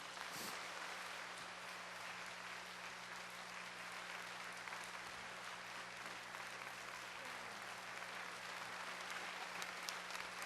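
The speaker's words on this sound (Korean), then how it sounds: "많은 박수로" Sustained audience applause at a church gathering for a guest musician's concert, steady dense clapping filling the room for about ten seconds with no talk over it.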